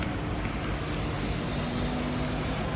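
A small passenger plane's engine drones steadily throughout, a constant broadband roar heard from inside the cabin with no talk.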